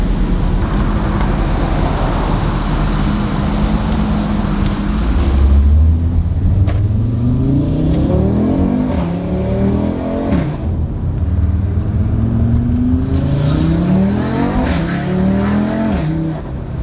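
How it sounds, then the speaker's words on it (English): A lowered car reverses out of a tight spot, its engine revving loudly and close in repeated rising and falling bursts, with an idle rumble between the revs. "we're trying to figure out how to reverse, get this thing out of here without scraping,"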